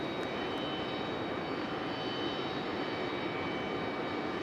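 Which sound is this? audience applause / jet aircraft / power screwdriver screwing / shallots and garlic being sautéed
jet aircraft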